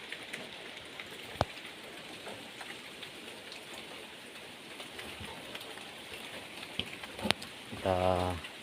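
Heavy rain pours steadily outdoors in windy weather, a dense even hiss with a few sharper knocks, and a brief tonal sound near the end.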